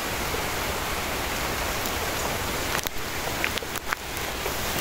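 Steady rain falls in a forest, a dense even hiss with a few louder drips and knocks near the end, with no voices.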